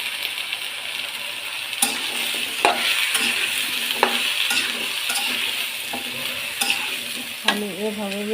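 Sweet pumpkin cooking in a pan, with a continuous bright sizzle and occasional utensil scrapes and clinks against the pan, close and steady, with no speech.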